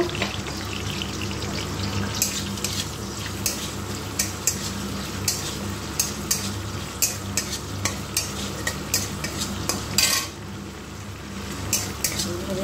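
Cashews and raisins frying in oil in a pan for a pointed gourd dish, a continuous crackling sizzle with regular spoon clinks and stirring scrapes nearby, no voices.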